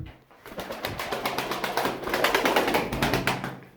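Pigeons coo softly under a rapid, rhythmic fluttering of wings, steady and close.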